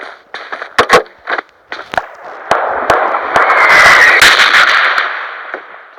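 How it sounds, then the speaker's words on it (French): Sharp explosive bangs from artillery shells in a red zone, several isolated cracks early on, then a dense rumbling, crackling barrage that swells and fades, loud and fairly near. "Il y a des obus."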